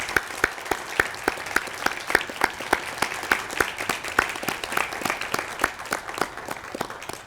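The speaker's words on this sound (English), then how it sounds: "A little applause for the family and friends," Applause for family and friends at a university hooding ceremony, a sparse, rhythmic clapping with distinct individual claps over a soft crowd wash, steady throughout.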